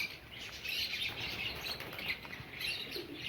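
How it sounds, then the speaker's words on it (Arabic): An Australian goldfinch at a bird park chirps repeatedly in quick, bright twitters, mixed with other faint bird calls over a soft, steady outdoor ambience. "طائر سميتو الحسون الاسترالي"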